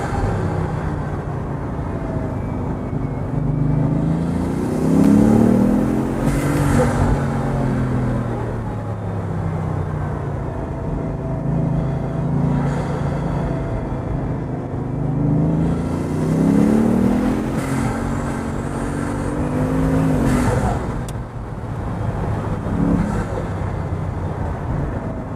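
A Bugatti Veyron Vitesse or Pagani Huayra supercar accelerates hard, its loud engine note climbing in rising sweeps through repeated gear changes, close and sustained throughout with no talking.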